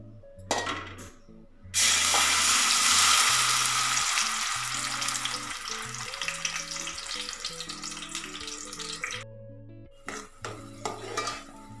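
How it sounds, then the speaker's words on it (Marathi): Raw tomato paste sizzles and fries loudly in a few spoonfuls of hot oil for a Malvani-style prawn curry, a steady hiss broken by clinks of a spoon stirring against the pan. "ही टोमॅटो पेस्ट तेलात परतून घ्यायची आहे"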